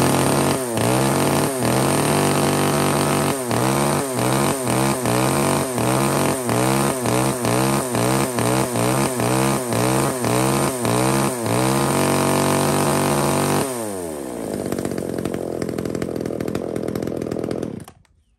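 A petrol chainsaw cutting through a 25 cm diameter log, the engine bogging in a fast series of repeated strokes, then revving free and dying away at the end, loud and close.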